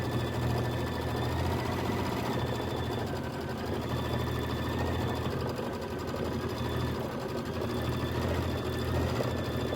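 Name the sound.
embroidery machine stitching a quilt block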